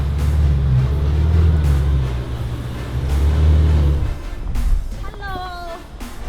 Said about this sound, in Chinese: 那辆白色的法拉利就是他